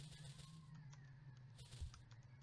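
Crows cawing outdoors in the Paranoiac video game, faint and distant, a few scattered caws over a low steady hum.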